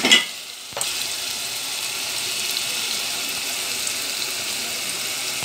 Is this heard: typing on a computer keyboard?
no